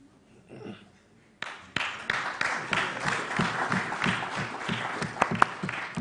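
Applause breaks out at a pension supervisors conference after a quiet opening, a roomful of hands clapping steadily at moderate distance, with a few louder claps standing out near the end.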